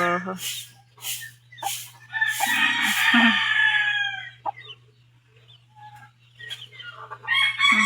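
A chick and other chickens make a series of short, loud calls and clucks close by, with crowing-like bursts and gaps of quiet between them.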